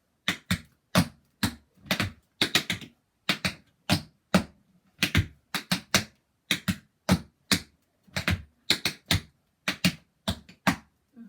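Tap shoes on a hard floor strike out a hop, shuffle, step, flap and ball change sequence during a live tap class, producing crisp, close clicks in quick clustered bursts and a steady repeating rhythm, with no talking.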